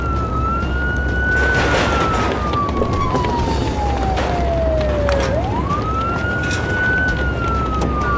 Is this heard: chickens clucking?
no